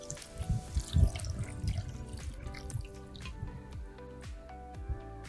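Water poured into a pot of kadhi cooking on the stove, with soft drips and wet splashing sounds, loudest early and then settling into quieter trickles.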